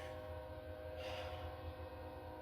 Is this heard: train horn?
yes